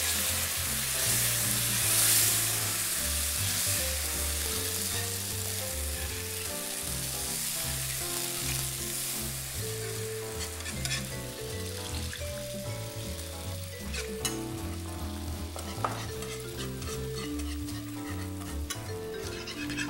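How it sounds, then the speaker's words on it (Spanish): Milk being stirred into a flour roux in a pot for palm heart lasagna gives a low, continuous sizzle and stir sound under steady background music, with no talking. "Aquí tenemos que revolver siempre parejo, para que llegue a hervir sin formarse grumos."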